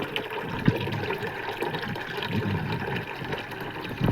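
Water rushes steadily from a pipe fed by a tunnel well after heavy rain, carrying mud and debris at first; a continuous, fairly close gushing flow with no pauses.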